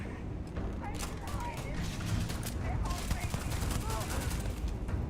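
Rapid gunfire from a weapon in the video game Starfield crackles in dense bursts, with a voice speaking over it.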